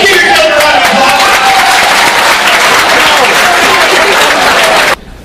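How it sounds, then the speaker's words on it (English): Audience applause at a spring 2013 motivational speaking event, loud sustained clapping from a crowd with a faint voice running under it, cutting off abruptly near the end. "Give yourself a round of applause."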